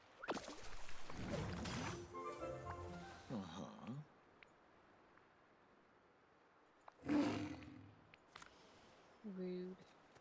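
An animal lets out several roars close by, a long rough bellow at the start followed by shorter calls and a later burst, with a person talking in between.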